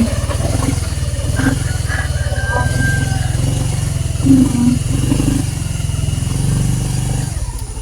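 A motorcycle riding through deep flood water near a dirt bridge, its engine running loud, close and steady with a low droning pulse, while a person murmurs briefly over it.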